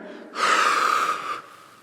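A long, forceful exhale through the mouth during a pilates exercise done lying face down, a breathy hiss that swells quickly, holds for about a second, then fades out.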